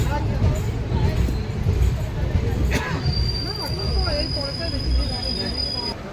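The Sahid Express rolls into Amodpur Junction, wheels rumbling on the rails with a thin high squeal, while station chatter and voices carry over the steady train noise.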